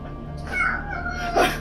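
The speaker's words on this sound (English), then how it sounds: "Go get your You cat." A cat meows and caterwauls nearby in a drawn-out, wavering cry, followed by a sharper louder call near the end, heard over a low steady background hum.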